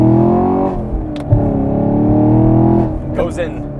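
A Chevy Camaro SS 1LE with a Tremec manual gearbox revs in first, drops briefly at the shift, then pulls again in second with a loud, rising engine drone heard from inside the car.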